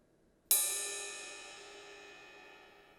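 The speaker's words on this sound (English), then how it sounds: "it is a ride cymbal" A single ride cymbal hit from an E-mu percussion drum module, a bright clean strike that rings out with a long, slowly fading shimmer, alone and close.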